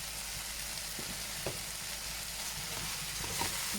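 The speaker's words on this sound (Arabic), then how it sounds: "نقلب الرز" Soaked basmati rice being stirred in a pot with peas and meat, giving a steady close sizzle with soft scraping bumps from the spoon, and no voices.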